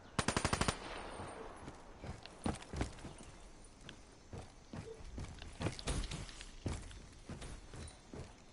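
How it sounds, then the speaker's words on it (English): Gunfire in Call of Duty Black Ops 3, sharp bursts and single shots scattered at irregular intervals, some close and loud, others softer and farther off, with a tight rapid volley at the start. "I think there's actually people shooting too."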